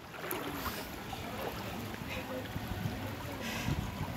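Strong floodwater current rushes steadily during the 2024 Ghatal flood, a continuous close wash of moving water with faint splashing throughout.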